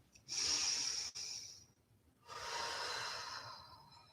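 Slow, deep breathing during a yoga session: a long airy inhale followed by a brief pause and an audible exhale through the nose or mouth, close and fairly soft.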